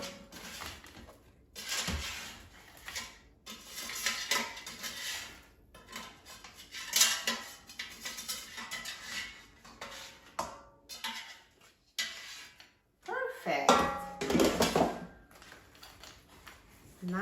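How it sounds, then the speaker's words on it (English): Trader Joe's gyoza are lifted out of an air fryer with close, intermittent clatters and metallic clinks of a basket and utensils, separated by quiet pauses. "Let's take them out of the air fryer."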